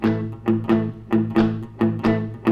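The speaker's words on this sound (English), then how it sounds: "I'm playing the rhythm in a shuffle rhythm. In other words, I'm bouncing the eighth note." Strummed blues guitar chords in a bouncing shuffle rhythm, long-short pairs of swung eighth-note strokes repeating steadily, close and clear with no voices.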